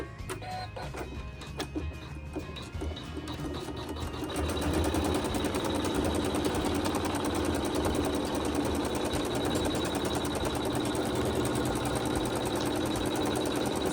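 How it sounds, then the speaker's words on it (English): An embroidery machine sews a tack-down stitch on a quilt block in the hoop. It starts as a rapid rattling whir and becomes a louder, steady, continuous mechanical drone that runs alone for many seconds. "it's going to sew another stitch to tack down all the loose ends that are there"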